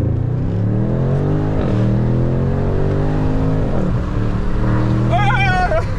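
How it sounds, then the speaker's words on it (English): A loud BMW M550i engine with a resonator delete revs and climbs through the gears in steady pulls, droning close up, with a shout near the end. "finally behind the wheel, but this car is so loud"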